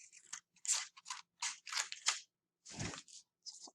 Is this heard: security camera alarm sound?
no